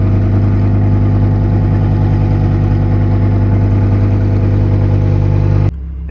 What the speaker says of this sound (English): You can really hear those RPMs kick up and those valves open.